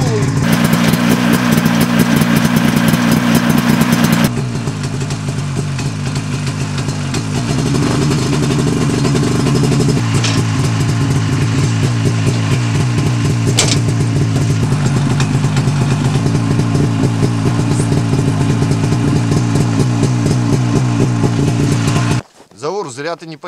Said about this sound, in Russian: Заводи, подъезжай к этому Фэдди